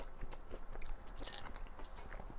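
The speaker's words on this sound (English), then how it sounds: "You hear that crunch?" Crispy fried breakfast potatoes being chewed up close, a run of sharp, dry crunches in quick irregular bites, loud and alone.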